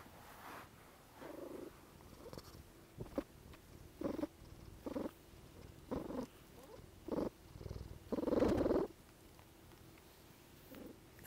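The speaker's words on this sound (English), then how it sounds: "She's purring." A cat purrs right at the microphone in a series of soft, rhythmic rumbling bursts, each a second or so long and separated by short pauses, close and fairly quiet.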